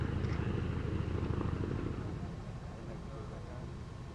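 Swedish Armed Forces HKP-4 helicopter on its final flight, a rumbling rotor and engine drone heard at moderate distance, fading slightly over a few seconds beneath a talking voice.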